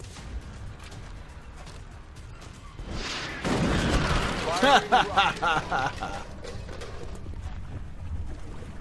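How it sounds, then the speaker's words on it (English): Explosion blowing open a front door in XCOM: Enemy Unknown, a sudden loud blast with crackling debris that rolls on for a few seconds, followed by softer rumbling game sounds. "I can blow up the front door, and I think I can catch both of them in the explosion radius"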